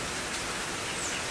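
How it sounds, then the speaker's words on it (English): Steady rain falls on a yard in Georgia, a dense even hiss of drops with no breaks, close and fairly soft, and no one speaks over it. "Here the rain comes again."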